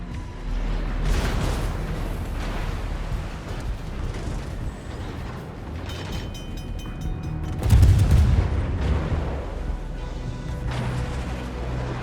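The naval guns of the cruiser Exeter in World of Warships fire during a battle. Dull booms and crashing blasts sound through a constant rumbling roar, with one heavier deep thud near the end.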